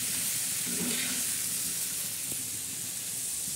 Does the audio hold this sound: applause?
no